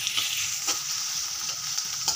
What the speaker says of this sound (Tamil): நல்லா வதங்கட்டும் வெங்காயம்.